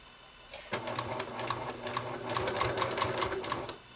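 A sewing machine stitches braid onto a felt mini witch hat, a steady rapid mechanical whirring chatter that starts abruptly after a short pause and runs evenly for several seconds, close and clear with no talk.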